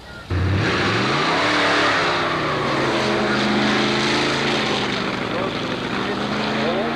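A 1964 Corvette drag racing at an antique drags event at Carlsbad Raceway, with a loud, sustained engine roar that rises in pitch as the car accelerates down the strip, heard up close and steady throughout.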